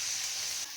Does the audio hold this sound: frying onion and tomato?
yes